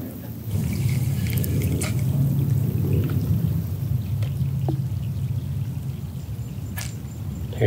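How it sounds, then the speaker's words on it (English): Steady rain hisses and patters throughout in coastal mangroves, with occasional sharper drips and taps standing out against the continuous wash. "Here's the rain."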